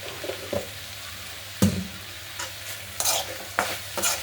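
Okra stir-fry sizzles in a pan as a spoon stirs it in a few distinct scrapes and clatters, the frying hiss running low and steady between them.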